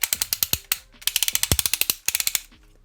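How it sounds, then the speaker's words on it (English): The clear plastic shoulder joints of a transforming gorilla robot toy are ratcheted, giving quick, close series of crisp clicks in several bursts separated by short pauses. "Now the shoulders, they're on ratchets, but they are clear."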